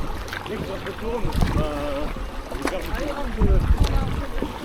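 Canoe paddle dipping and pulling through river water in uneven strokes, with close splashes and trickles while people talk in the boat.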